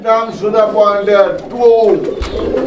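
A pair of Lahori Sirazi pigeons at a pigeon farm coo close by in loud, rolling, repeated phrases, and each throaty coo swells and fades.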